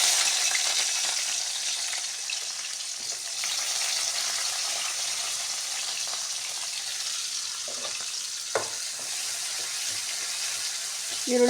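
One onion deep-frying in a pan for jackfruit pulao hisses in a continuous broad sizzle, with faint stirring clinks and a couple of knocks late in the clip.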